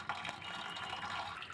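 Cold water poured through a strainer while making milk sarbath, a continuous soft splashing trickle at close range that runs steadily throughout.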